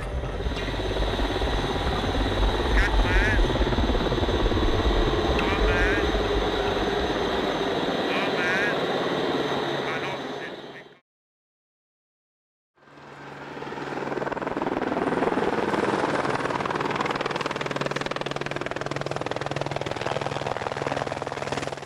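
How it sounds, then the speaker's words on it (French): A Eurocopter Ecureuil B3 helicopter landing at Arolla heliport: steady rotor and turbine roar fills the air, cutting out briefly midway before returning just as loud and sustained. "atterrit avec l'écureuil B3, le fleuron de la flotte hélicoptère d'Air Glacier"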